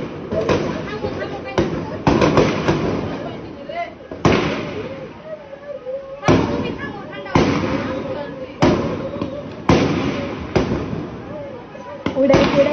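Repeated sharp gunshot bangs during a police shooting in Jatrabari, loud and irregularly spaced, with people shouting and talking throughout.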